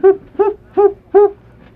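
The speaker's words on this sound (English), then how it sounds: "Just an owl." An owl hoots four times in a steady, evenly spaced rhythm, loud and close, as a sound effect in a 1984 Halloween radio drama.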